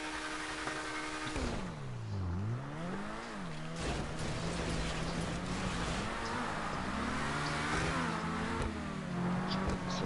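A car's engine revs high while its wheels spin in GTA 5 Online, giving a loud, wavering whine that dips and climbs again and again over a steady in-game rumble.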